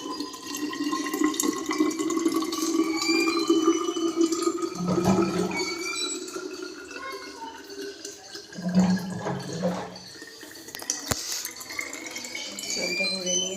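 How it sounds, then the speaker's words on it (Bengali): Water runs into a container at home for making tea, a close steady pouring with a rising filling tone, broken by brief splashes and clunks. A voice is heard faintly at moments. "এখানে আমি জল ভরছি।"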